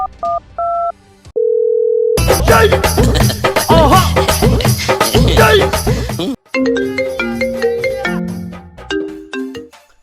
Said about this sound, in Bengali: অভিজিৎকে একটা ফোন দিয়ে নেই